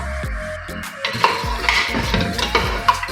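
Metal pots and utensils clank and scrape as goat meat is added to hot oil over medium heat and stirred for tender gosht, with repeated knocks and a soft sizzle underneath, no voices.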